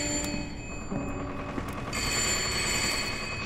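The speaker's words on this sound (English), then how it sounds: "A phone? A phone call," A telephone rings in the horror video game Layers of Fear, a steady electronic tone that holds throughout and brightens partway in, fairly close amid a low ambient hum.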